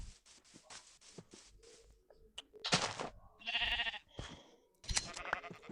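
Several sheep bleat in a survival video game, short separate calls with gaps and light game clicks between them, fairly quiet and with no talking.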